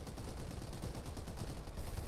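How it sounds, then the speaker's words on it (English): Gunfire from the video game Farlight 84 chatters as a steady, muffled stream of rapid shots at a distance, continuous and fairly faint throughout. "They definitely probably hear Monera shooting at them there."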